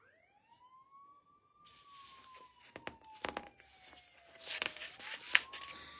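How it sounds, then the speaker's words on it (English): Police siren winding up into a long sweeping wail that slowly falls in pitch, fairly faint and distant, with clattering knocks and rustling noise over it in the second half. "this is the sound of a police siren"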